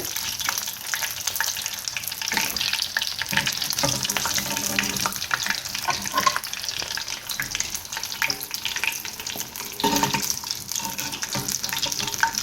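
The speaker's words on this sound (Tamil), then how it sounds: "இந்த மாதிரி எல்லாத்தையும் பொறிச்சிட்டு காமிக்கிறேன்" Prawn tempura deep-fries in hot oil with a dense, continuous crackling sizzle, close and fairly loud, with occasional clinks and stirring.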